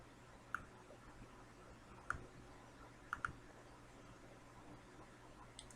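Computer mouse clicks during an online federal tax ID (EIN) registration, four faint sharp clicks spaced over a few seconds, one quick double, over steady background hiss.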